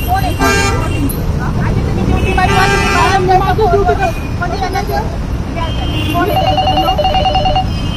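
A telephone rings repeatedly in bursts of electronic trills, mixed with street noise, honking and people talking nearby.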